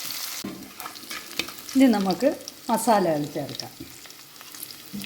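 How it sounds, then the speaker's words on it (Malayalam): Ginger-garlic paste sautéing in a pan for avoli fish curry, a steady close sizzle with stirring scrapes, and a person speaking over part of it. "ഒരല്പം ഇഞ്ചി വെളുത്തുള്ളി പേസ്റ്റും കൂടെ ഒന്നുകൂടി ഇതിലോട്ടിട്ട് ഒന്ന് വഴറ്റാം"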